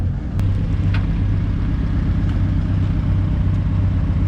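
A blown engine at an airport, running steadily with a deep continuous drone and a few faint clicks and knocks over the top.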